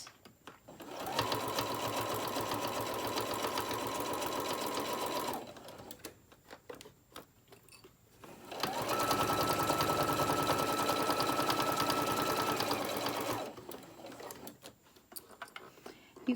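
A sewing machine stitches along the edge of a small tote bag with pockets in two long, steady, close runs of rapid mechanical whirring, separated by quiet pauses with faint handling noises.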